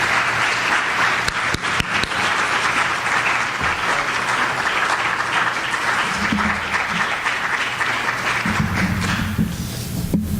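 An audience applauds to welcome Ralph Becker at a collaborative governance lecture, a dense, sustained clapping from a crowded room that carries on steadily for about ten seconds, with a low voice or two surfacing near the end.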